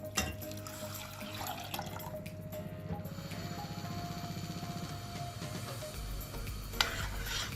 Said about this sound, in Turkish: yıkamış olduğum mercimeğimi kabıma alıyorum. 3 su bardağı su ilave ediyorum.